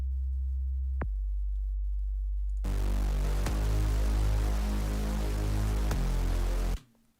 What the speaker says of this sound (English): We have this sub oscillator down here too. You can hear it's really loud